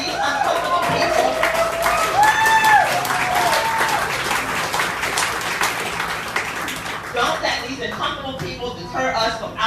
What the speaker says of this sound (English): The applause afterwards was crazy.